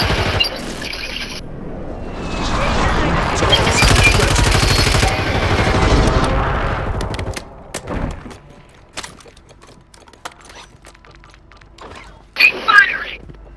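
Rapid automatic gunfire from a Call of Duty ranked match rattles loudly for about seven seconds, then gives way to scattered single shots and impacts, with a final pair of sharp bursts near the end and game voices heard in between.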